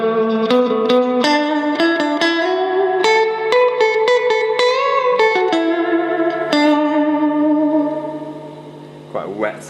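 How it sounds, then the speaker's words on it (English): Electric guitar through a Fender Twin amp with the reverb turned fully up, notes and chords played continuously and washing together in a very wet, lingering tail that fades out near the end. "Quite a wet sounding reverb there."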